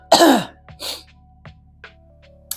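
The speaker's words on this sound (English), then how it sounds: "don't like coughing on camera, and I just did." A sharp, loud cough bursts out in a coffee shop, followed by a few softer coughs and throat-clearing sounds spaced through the rest of the moment, close to the listener.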